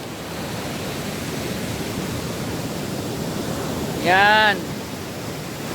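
Big ocean surf at a beach in Zambales, Philippines, where the water is shallow, makes a continuous broad roar of crashing waves; a voice speaks briefly near the end.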